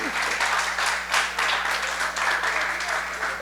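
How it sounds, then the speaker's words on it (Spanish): A church congregation claps steadily in applause, a dense rolling patter of many hands filling the room. "usted merece un aplauso de toda la congregación"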